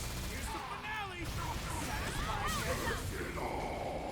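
Gunfire from the fighting game Marvel vs. Capcom: Infinite, played at a Combo Breaker 2022 tournament, crackles in dense bursts mixed with whooshing hit effects and busy game audio throughout.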